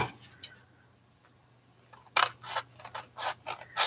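Scissors snipping through lace that came in the mail: a few sharp, close clicks early on, then a quick run of crisp cuts near the end, with near-silence between.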